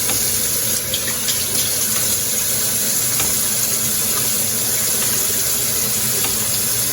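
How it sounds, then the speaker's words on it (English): Tap water runs steadily into a sink while a bar of Surf and Suds soap is lathered by hand in hard water, a constant hiss with faint wet rubbing. "As you can see, it lathers up just fine in hard water."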